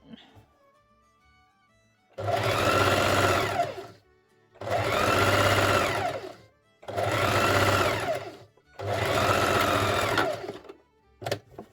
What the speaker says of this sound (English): Line it up, sew it down.